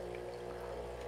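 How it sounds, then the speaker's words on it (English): A steady, continuous hiss and rush of hot water streaming out of a Breville Barista Pro espresso machine, even and unbroken for about a second, with a faint low hum underneath. "Hot water coming out."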